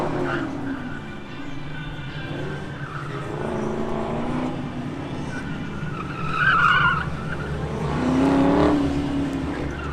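A white Chevrolet Camaro SS at an autocross, engine running under crowd noise with bursts of tire squeal as it skids through corners, heard from trackside at moderate distance.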